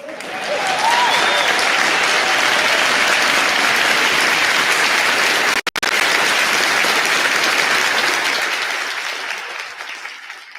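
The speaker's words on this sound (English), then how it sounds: "just love the digital applause" A digital applause sound effect played on a talk show, a dense, steady wash of clapping and crowd noise that holds loud for about ten seconds, breaks off sharply for an instant partway, then fades slowly at the end.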